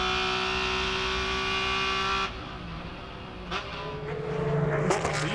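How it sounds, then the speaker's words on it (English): Onboard engine roar from Hans Stuck's race car at Sebring in a 2003 World Challenge Speed GT race: a steady high-revving howl, then a sharp drop at a shift and lower, rising revs with a few brief sharp noises. "Beautiful onboard vision and sound from Hans Stuck, the legend himself, running in a very strong fourth"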